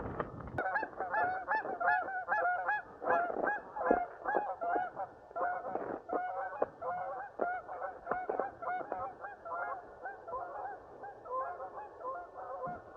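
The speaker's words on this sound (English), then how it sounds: "Got some nice geese there." A flock of geese beside the Badger State Trail honks continuously, many overlapping calls at moderate distance, noisy and insistent throughout.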